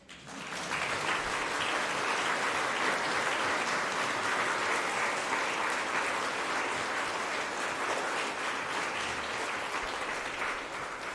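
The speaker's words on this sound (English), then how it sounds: "give one another a round of applause" A congregation at a Sunday worship service bursts into sustained applause, dense steady clapping from a large crowd that holds for about ten seconds without fading.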